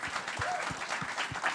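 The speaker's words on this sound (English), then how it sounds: "give a big round of applause to all of our speakers and our hosts" Dense, steady applause from an audience, many hands clapping together without pause.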